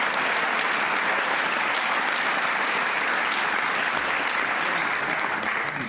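Sustained applause from a large audience honoring members of Congress at a defence bill signing, dense steady clapping throughout with no voices.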